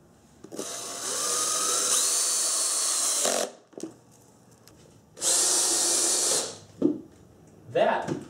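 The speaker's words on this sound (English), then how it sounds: "As I'm screwing, I'm taking care to sink the heads of these screws below the surface of the plywood" A power drill whines in two long bursts as it drives screws into plywood, with short clunks and brief pauses between.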